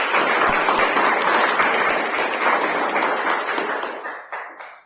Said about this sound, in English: With thunderous applause, let's welcome Toastmaster Keerthan Bhat on stage